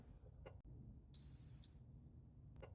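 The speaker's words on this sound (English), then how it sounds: "they got rid of this beep that you just heard. So this is the automatic sleep timer that's built in" A Gevi GrindMaster coffee grinder's automatic sleep timer gives one clear electronic beep, a steady tone of about half a second, over a quiet room hum with a few soft clicks around it.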